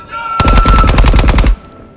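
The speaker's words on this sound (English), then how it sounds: "I quite like the sound of this Uzi." Rapid bursts of automatic fire from an Uzi submachine gun in the video game Marauders, loud and continuous for about a second, then cutting off abruptly.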